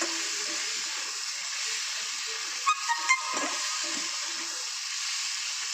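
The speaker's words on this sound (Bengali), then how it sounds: "এগুলো একটু তেলে ফ্রাই করে নেব।" Chicken and capsicum frying in oil, a steady loud hiss and sizzle throughout with a couple of faint clinks partway through.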